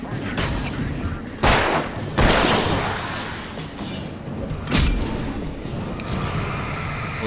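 Gunfire and heavy booms from the Alan Wake video game fire in several loud bursts over a dense, roaring backdrop, with someone speaking German briefly in between.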